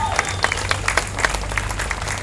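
An audience at an Australia Day citizenship ceremony claps, a dense, loud burst of applause sustained evenly throughout.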